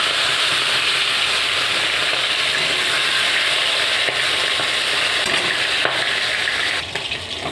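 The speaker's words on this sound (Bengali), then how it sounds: "নিয়ে তেল গরম করে একে একে সবগুলো ভেজে নিচ্ছি" Chicken pieces, rubbed with salt, turmeric and lemon juice, fry in hot oil with a steady, dense sizzle that holds loud and close throughout, easing slightly near the end, with no voices.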